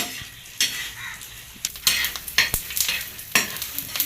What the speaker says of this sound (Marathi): शेंगदाण्याला छान असं तेलामध्ये भाजून घ्यायचं आहे